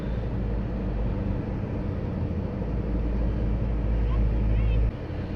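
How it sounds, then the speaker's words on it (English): A 1997 Toyota RAV4 driven on a beach makes a steady, loud low engine drone with a whooshing, zoomy hum, close and continuous, ending with a drop in level near the end. "Weird zoomy car noise."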